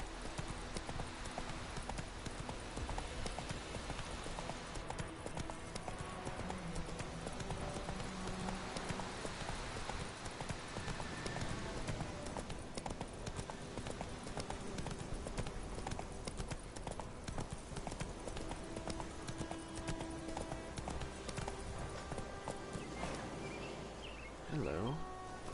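Horse hooves trot in a steady clip-clop rhythm in The Witcher video game, continuous and moderately loud under game sounds. A voice speaks briefly at times.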